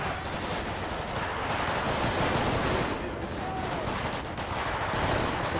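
Continuous gunfire from a GTA 5 police SWAT raid at an abandoned motel, with dense overlapping shots and bursts rolling steadily throughout, loud and near, with an armored vehicle and helicopter in the scene.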